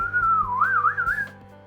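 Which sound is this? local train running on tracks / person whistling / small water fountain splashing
person whistling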